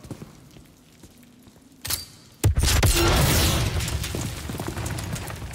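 An explosion in Call of Duty: Modern Warfare III: a sharp crack followed by a large, roaring blast that rumbles on and slowly decays, with debris and crackle underneath.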